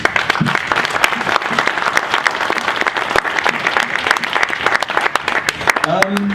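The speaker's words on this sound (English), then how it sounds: "let's give them a big round of applause" Sustained audience applause at a Boston startup showcase, dense and steady throughout, with a brief voice near the end.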